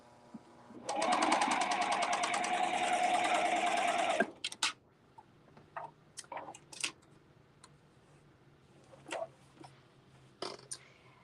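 A serger stitches a 2-thread narrow hem in one steady, fast mechanical burst lasting about three seconds, followed by scattered clicks and handling sounds at a quiet, close level.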